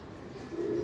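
A short, low racing pigeon coo, soft and brief, close by over a quiet background.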